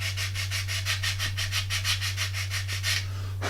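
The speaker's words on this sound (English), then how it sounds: "A few swipes with a sanding stick there." Quick rhythmic swipes of a sanding stick rubbing a plastic part from a Revell 1/32 He111 model kit, about fifteen even strokes close up over a steady electrical hum, with no talking.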